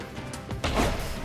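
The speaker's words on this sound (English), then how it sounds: "Okay, that's a grenade." A grenade goes off in Deus Ex: Human Revolution: a short, loud broadband blast bursts in about halfway through and lingers as a rough, sustained roar to the end, with no talking.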